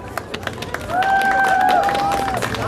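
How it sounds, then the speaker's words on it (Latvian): Audience applause greeting a guest at a Latvian book festival event, a steady wash of clapping from a crowd that swells and holds under a tonal sound and background noise. "Ar aplausiem sveicam!"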